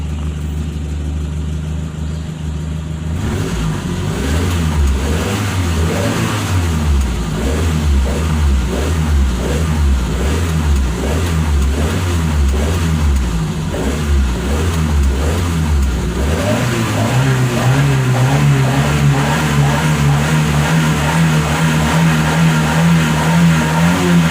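A petrol car engine idles, then its HKS Srigala exhaust revs repeatedly in rising and falling surges, growing louder and higher in pitch, with no talking.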